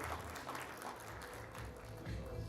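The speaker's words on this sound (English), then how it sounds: "A big round of applause for all the finalists" An audience at an awards ceremony applauds the finalists: a faint, distant, continuous wash of clapping from a crowd, with no distinct individual claps.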